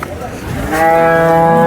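A cow lets out one long, loud moo close by at a cattle market, rising and then holding steady.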